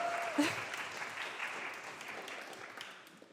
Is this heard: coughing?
no